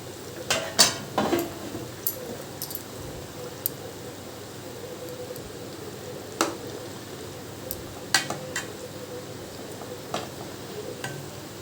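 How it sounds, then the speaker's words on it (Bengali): Fried boal fish pieces stirred into a fish curry with potatoes, with scattered clinks and scrapes of a utensil against the pan and soft squishy stirring over a faint low simmer, no talk. "ভাজা মাছগুলো সব মিশিয়ে দিলাম।"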